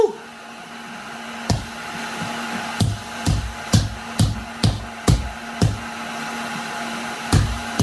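A heat gun blows hot air steadily over a seat cover on a 1970 Ford F-100 truck in a trim shop, a loud continuous whoosh broken by a series of repeated thumps and knocks.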